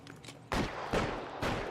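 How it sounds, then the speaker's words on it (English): Gunshots in the LA Noire video game, three sharp, loud cracks at roughly half-second intervals, each trailing into a brief echoing decay, with no talking in between. "someone's shooting over here"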